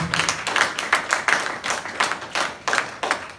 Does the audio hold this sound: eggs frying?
no